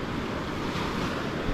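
Sea waves break on a shore in a steady, close, full-bodied roar of surf, with wind buffeting the microphone throughout and no voices.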